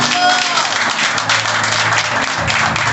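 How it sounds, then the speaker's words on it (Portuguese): A church congregation claps and cheers for Jesus during an evening service, a dense, steady wash of applause with crowd voices mixed throughout at close range. "Dê uma salva de palmas bem alegre para Jesus nessa noite."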